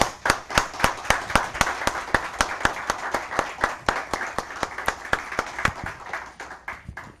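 A small audience claps after a lecture at a Spanish-language academic event, slow rhythmic unison claps repeating steadily, moderately quiet and gradually fading.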